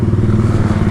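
A motorcycle engine pulls hard on the road, a close, loud, throbbing drone with a quick regular pulse and slight clatter over one brief second.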